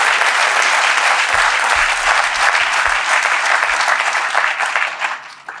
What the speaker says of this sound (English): I'd like us to give one more big round of applause to this champion.